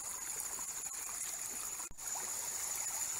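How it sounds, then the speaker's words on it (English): Spring water streams steadily into a ram pump intake, a continuous close trickling and rushing wash with no voices. "This spring produces a heck of a lot of water."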